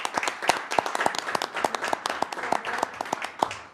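Applause for graduates at a city council work session: a small group clapping at close range, sharp uneven claps in a quick steady stream throughout, with no talking over them.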